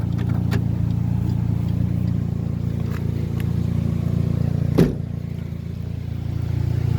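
A 2007 Chevy HHR car engine idles at a steady, even drone, with one short knock partway through.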